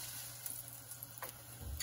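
Eggplant slices frying in oil in a pan, a steady close sizzle with soft crackles and a light scrape of stirring near the end.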